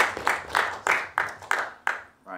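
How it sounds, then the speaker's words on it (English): An audience at a university talk gives a round of applause, heard as a series of distinct, evenly spaced loud claps. "We have a big round of applause."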